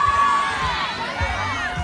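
A school assembly crowd of children cheers and shouts loudly throughout, with whoops rising above a steady roar of young voices.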